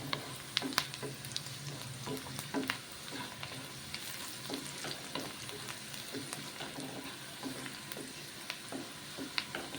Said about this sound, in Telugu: పసుపు కూడా కొంచెం ఆయిల్లో వేగాలి మంచిగా ఇట్లా